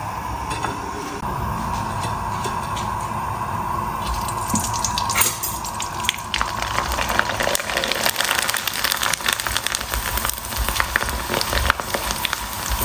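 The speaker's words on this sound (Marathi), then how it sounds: "सर्वात अगोदर आता कुरडई फ्राय करून घेऊ म्हणजे हे जे पापड आहे ते फ्राय करून घेणार" Kurdai papad deep-frying in hot oil for a festive veg thali, a steady broadband sizzle and crackle that grows denser and louder partway through, with no talking.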